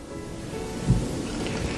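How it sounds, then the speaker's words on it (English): Short stretch of a stream flowing with a steady broadband rush, one soft low thump near the middle, no talking. "Here is that stream."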